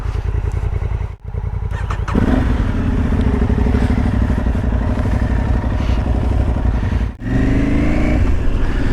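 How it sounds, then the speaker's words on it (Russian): Honda Africa Twin or Aprilia Tuareg 660 motorcycle idling loudly, then revving and accelerating away with a sustained engine roar, broken by two brief gaps, close to the microphone. "Просто газу даешь, и он поехал."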